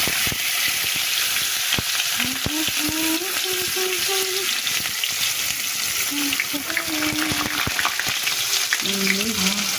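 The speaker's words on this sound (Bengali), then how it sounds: "তেল গরম হয়ে গিয়েছে জিরে দিলাম রসুন দিলাম" Cumin seeds and garlic frying in hot oil for a prawn bharta, a dense crackling sizzle with sharp pops and stirring taps, close and steady throughout, with faint voice-like tones in the background.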